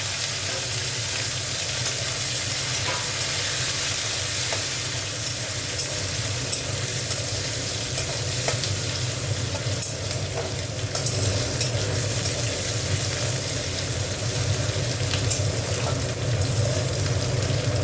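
Garlic and onion frying in a pan for a red amaranth greens dish, a steady close sizzle with scraping stir strokes throughout, no talking.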